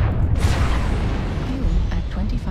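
A heavy boom as a mech fires its Gauss rifles in MechWarrior Online, one deep blast with a rumbling tail that fades over a couple of seconds.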